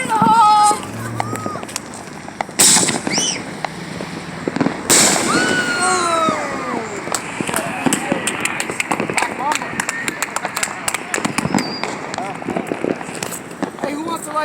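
Fireworks mortars set off at a Fourth of July gathering, with several sharp bangs and crackling bursts, some whistling, and close and distant pops continuing throughout while people talk nearby.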